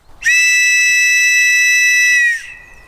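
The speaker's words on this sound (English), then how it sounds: "Internationally kind of recognised whistle." One loud, shrill distress whistle blast held steady for about two seconds, then cut off sharply, alone in quiet surroundings in the Scottish Highlands.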